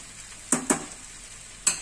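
Bhindi masala, okra coated in spices, frying in a pan with a soft sizzle underneath, broken by three quick scraping stir strokes, two close together and one a moment later.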